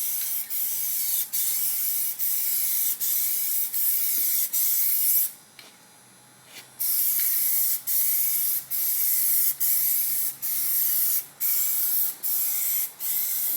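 Matte black Plasti-Dip sprayed in a body and paint shop, a steady close airy hiss in repeated bursts with short gaps, pausing for about a second midway before the passes resume.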